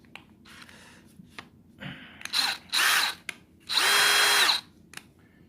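A DeWalt cordless household drill whirs in three short bursts, the last and longest running loud and steady up close, with its motor pitch rising and settling between quiet pauses.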